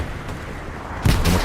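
Gunfire in the World War II shooter Hell Let Loose, with a dull low rumble of distant shots that gives way to a louder, close burst of firing near the end.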